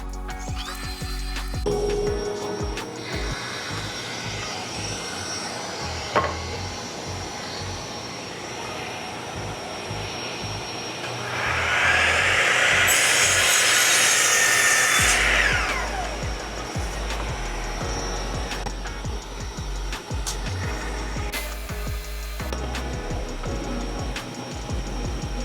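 A saw cuts through stock in a small woodworking shop while a dust collector with a shrouded side port runs, giving a steady loud machine roar with a brighter, harsher surge midway through the cut.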